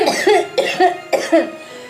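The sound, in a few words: coughing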